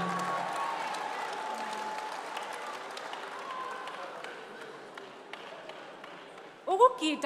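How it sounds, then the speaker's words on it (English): Audience applause at a national arts awards ceremony at an indoor venue, steady clapping from a crowd that fades out before a brief sharp sound near the end. "Another big round of applause, ladies and gentlemen."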